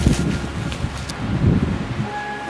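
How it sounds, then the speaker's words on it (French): Strong wind at the beach at Étretat buffets the microphone in heavy gusts, a rough low rumble that rises and falls, easing near the end. "Non, j'avoue, il y a trop de vent."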